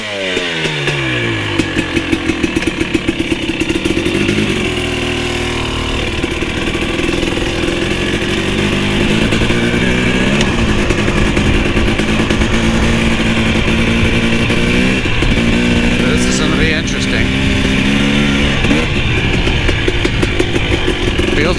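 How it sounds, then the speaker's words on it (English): A TX300i motorcycle ridden on laps, engine loud and close, revving and shifting through rising pitch sweeps with continuous throttle changes. "I'm just gonna go out and do some laps to get acquainted with the bike"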